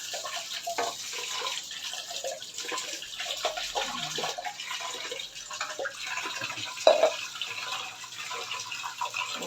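Water runs and splashes steadily into a pot as it is filled to wash rice for cooking, a continuous close trickle with small knocks and drips throughout.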